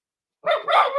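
A puppy named Riley lets out a short burst of high, yappy barks close by, starting abruptly after a brief silence and running as two or three quick overlapping yips.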